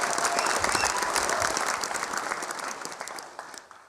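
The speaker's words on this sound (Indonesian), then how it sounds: "Tepuk tangan buat Basuki Cahayapurnama." Audience applause at a live event in Jakarta: a dense, loud wash of clapping from a large crowd that slowly thins and fades out.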